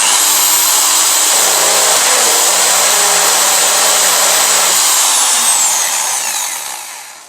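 A power drill bores into an aluminum shelf of a snake rack, whining loud and close in one continuous high-pitched run that tapers off at the end.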